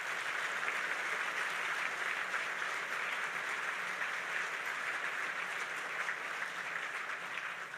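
Sustained applause from a crowd at the US Coast Guard State of the Coast Guard address, steady and dense across the whole stretch, slowly tapering near the end with no talk over it.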